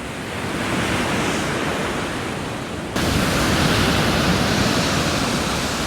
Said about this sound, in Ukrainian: Уявіть, який шторм, де от ви ж бачили, де закінчується море і як доходить хвиля.